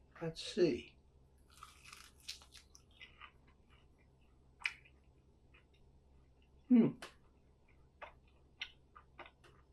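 Scattered crunchy bites and chewing of egg-battered air-crisped chicken wings, close to the mic, with a couple of louder crunches among quieter clicks and rustles.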